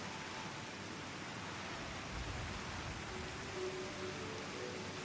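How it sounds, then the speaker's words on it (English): Rain falling in the video game Final Fantasy XIV, a soft, steady hiss of pattering drops with faint low rumbles, quiet and continuous throughout with no voices. "Hey, the rain's back."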